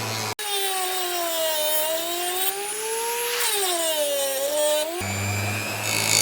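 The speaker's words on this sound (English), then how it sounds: "It's a very quiet machine, and it's taking that rust off really well." An Abest mini grinder and polisher with a flexible shaft whines steadily as it buffs rust off a steel chisel, a close, smooth motor tone that rises and falls slightly with load, with no talk.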